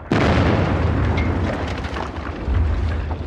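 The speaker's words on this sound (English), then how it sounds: "Hell, the biggest barrage of the war, and it's fallen on all the wrong bloody places." Artillery barrage explosions rumble continuously from the start, a dense, heavy roar of booms with deep low-end swells and no clear gaps, loud and close throughout with no voices.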